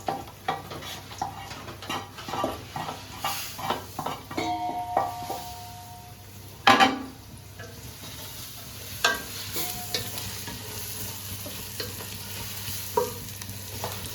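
Onions sautéing in a pot for chicken biryani, a steady sizzle beneath rhythmic stirring and scraping of a utensil against the pot, close up with occasional metallic clinks.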